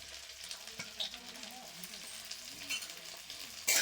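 Minced meat with onion, garlic, ginger and tomato sizzles softly in a pan while a spoon stirs it, a steady quiet frying hiss broken by light scraping clicks, ending in a brief louder burst.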